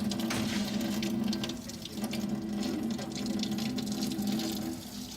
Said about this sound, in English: See if I can get some hot water without splooshing everything.